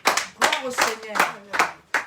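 A church congregation applauds in short, loud bursts of clapping that come in irregular waves, mixed with voices.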